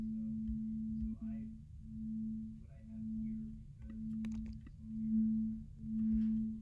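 Sine wave in Max/MSP with amplitude modulation, a steady low hum that swells and fades in slow, regular pulses of about one per second, accompanied by faint clicks and a brief voice.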